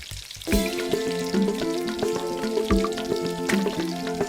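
Onion and winged beans (sigarilyas) sautéing in a pan with ground meat and garlic, a steady close sizzle with scattered clicks and stirring scrapes, starting abruptly after a brief quiet moment.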